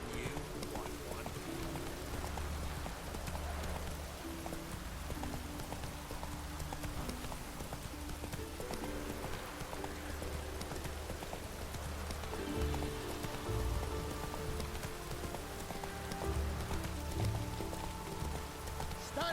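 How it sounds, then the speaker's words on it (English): Horse hooves clip-clop steadily through rain in The Witcher 3 video game, a rhythmic, moderately close trot over a constant patter of rain, with occasional voices talking over it. "Whoa there, Roach."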